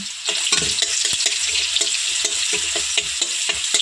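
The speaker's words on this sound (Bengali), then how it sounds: "রসুনটা লাল লাল করে ভাজা হয়ে গেলে" Garlic and nigella seeds fry in a generous pour of mustard oil in a kadai, giving a loud, continuous sizzle broken by repeated stirring clicks.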